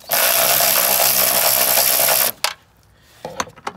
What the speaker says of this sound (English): you gotta take these two nuts off, which it looks like it's a 10 millimeter.